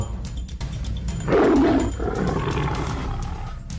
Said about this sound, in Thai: สมิงไล่คำรามในลำคอ